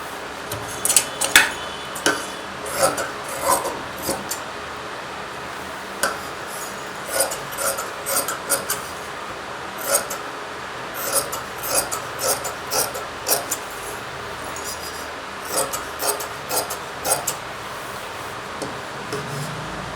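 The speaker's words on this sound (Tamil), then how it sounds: "இந்த இடத்துல அப்படியே வச்சு நான் துணியை கட் பண்ணி எடுத்துக்க போகிறேன்." Scissors cutting blouse fabric, giving a series of crisp snipping clicks at an uneven rhythm, close and fairly quiet over a soft background.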